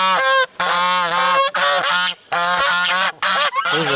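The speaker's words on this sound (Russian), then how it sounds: "гуси, хватит орать" Geese in a small village menagerie in Thailand honk loudly and repeatedly, a near, continuous chorus of harsh nasal calls broken by a few short pauses, with no talking.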